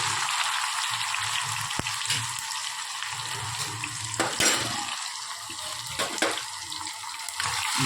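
Spices and tomatoes sizzle and fry in an oil-coated pan while kadhi is prepared, a steady close crackling hiss with scattered sharper pops and spatters throughout.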